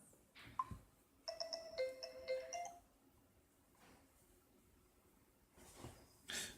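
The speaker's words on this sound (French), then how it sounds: "Sonnerie du téléphone." A Vernee Mix 2 smartphone plays its ringtone through its speaker, a short bright melodic phrase of stepped electronic tones that stays close and clear and then stops, followed by faint handling clicks.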